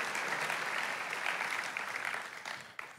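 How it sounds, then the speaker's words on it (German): A church audience applauds for about three seconds, a dense, steady wash of clapping that fades slightly toward the end, with no voice over it. "Applaus, unsere wunderbaren 2 People"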